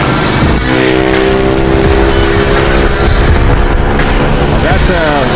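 A loud vehicle with a noisy exhaust drones steadily along a seaside street. The engine note rises and shifts throughout, close and dominant.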